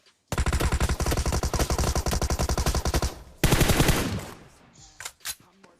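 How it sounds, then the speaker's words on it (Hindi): Tommy gun in the mobile battle-royale game PUBG Mobile fires a long rapid burst of about three seconds, followed by a denser second burst and a few scattered shots, loud and close. "कतई टॉमी गन चला रहे भाई"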